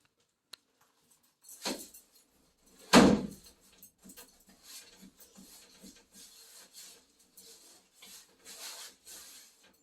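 A paintbrush spreads paint across a wooden panel door, with soft, close rubbing strokes, a sharper swipe near the start and a string of faint, irregular brushing scrapes after it.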